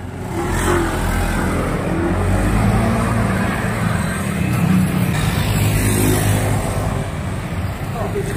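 A Honda ADV 160 scooter engine revs up and holds a steady buzzing drone, close by, with some background noise throughout.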